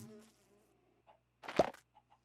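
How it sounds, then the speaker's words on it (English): A Minecraft bee leaving its hive gives off a brief buzzing burst in the middle, after an earlier faint tone and before small scattered blips, against near silence. "The bee came out and he still has the name"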